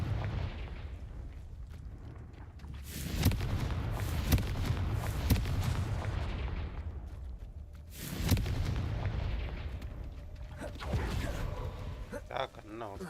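Confringo blast spells exploding in the video game Hogwarts Legacy, several heavy booming bursts with rumbling tails spread across the span, loud and close, amid game sounds and a voice speaking.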